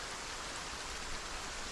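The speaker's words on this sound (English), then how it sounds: "It is pouring rain." Heavy pouring rain in a post-apocalyptic survival game, a dense, even roar of downpour that stays steady and loud for the whole stretch with no other sounds.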